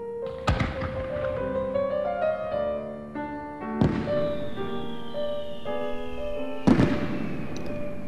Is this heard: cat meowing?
no